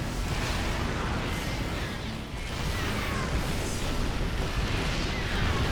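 Siege tanks firing in a StarCraft Terran-versus-Terran match: a dense, continuous rumble of booming artillery blasts and mechanical bursts, loud and close, with no voices over it.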